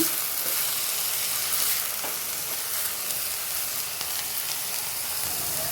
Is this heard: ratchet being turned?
no